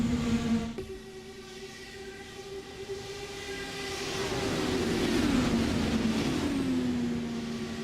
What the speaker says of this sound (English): I hear some lap down cars